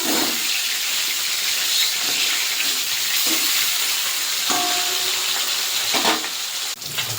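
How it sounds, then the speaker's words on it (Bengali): Salted, turmeric-rubbed catla fish fries in hot oil, giving a loud, steady sizzle throughout with a few sharper crackles and spatters. "তেল গরম হয়ে গেছে মাছ ছেড়ে দেবো"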